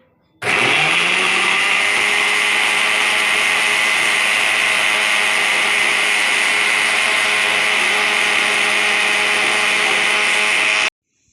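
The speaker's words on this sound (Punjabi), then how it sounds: "ਹੁਣ ਮਿਕਸੀ ਨੂੰ ਆਪਾਂ ਪੂਰਾ ਤੇਜ਼ ਚੱਕਰ ਚ ਘਮਾਵਾਂਗੇ" A mixer grinder whirs steadily at full speed making sugarcane-style juice, a loud, constant high-pitched motor drone that starts abruptly and cuts off cleanly after about ten seconds.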